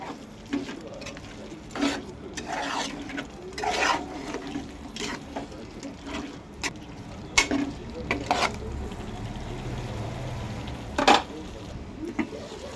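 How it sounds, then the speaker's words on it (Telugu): Chicken curry, Telangana style, simmering in a pan while being stirred, with scattered spoon scrapes and taps over a soft bubbling bed; a few louder clinks stand out, and faint background voices are heard. "కలుపుకున్న తర్వాత 2 నిమిషాలు సిమ్లో పెట్టాలి. మధ్యలో ఒకసారి కలుపుకోవాలి మళ్ళాను."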